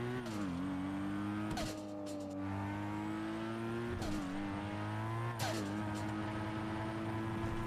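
A video game car's engine revs hard through repeated gear shifts, rising and dropping in pitch several times, with occasional tire squeals and skids, loud and close with no talking.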